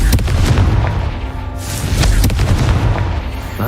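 Loud booming blasts from the Confringo fire spell in the game Hogwarts Legacy, several close heavy impacts rolling one after another over a constant rumbling low roar.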